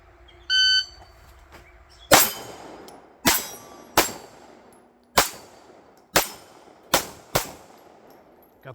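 A shot timer gives a short electronic beep, then a Glock pistol fires seven sharp, loud shots at a fairly steady pace, each one ringing out briefly before the next.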